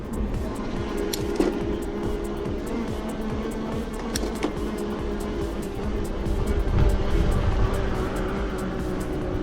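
A Hiboy P7 electric scooter climbs a steep hill in climbing gear at level 5, giving a steady motor whine and road rumble with scattered clicks and rattles, loud and close throughout.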